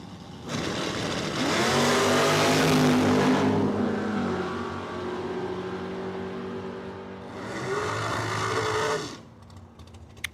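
Two drag cars launch and roar away, a Chevrolet Malibu racing a Pontiac Grand Am on a dragstrip quarter-mile, engines loud and rising through gears, fading, then another surge of revving before dying off.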